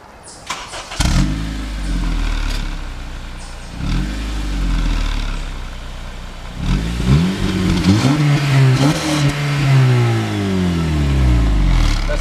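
A car engine starts and revs repeatedly, each rev climbing quickly and bouncing off the rev limiter, loud and close with a buzzing, stuttering rise and fall between pulls.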